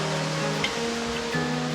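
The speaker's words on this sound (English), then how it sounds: "we end here at the beautiful waves of the Pacific coastline" Pacific Ocean waves wash against the coastline in a steady, broad roar of surf, with a faint hum and a couple of brief higher sounds over the continuous rush of water.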